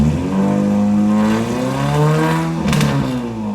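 A car engine running on a garage-built standalone ECU revs up and down in smooth swells, loud and close, with a brief rattly burst near the end and no voices.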